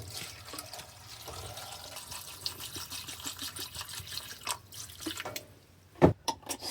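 Water is poured into a pot of noodles during outdoor cooking, with faint trickling and dripping followed by a few louder splashes near the end.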